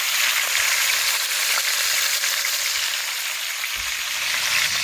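A beef roast searing in a hot pan, a loud, close, continuous sizzle and crackle of fat, steady throughout with a brief shift near the end as the meat is moved, no talking.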